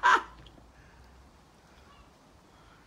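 A single loud, close seagull squawk at the start by the seaside in Darwen, then quiet outdoor background.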